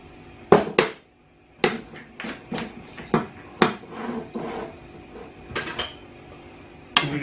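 Potatoes stirred in a pan with a drop of oil, a series of loud, sharp metallic scrapes and knocks of a utensil against the pan in irregular bursts, close up, with short quiet gaps and no talking.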